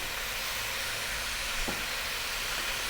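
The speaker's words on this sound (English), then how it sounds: "we're just going to fry this up on a highish heat just for about 4 minutes" Steady sizzling hiss of turmeric, chili, coriander and cumin frying on high heat in a pan with ginger for a vegetable coconut soup, continuous and close, with a brief scrape midway.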